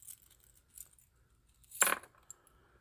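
Old skeleton keys for warded locks clink and rattle as they are handled, with faint light jingles early on and one brighter, louder metallic clatter near the end, no talking.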